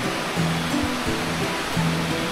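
Imugan Falls waterfall in Santa Fe, Nueva Vizcaya, a steady broadband rush of falling water heard close and continuous, with faint low rumbles underneath and no talk.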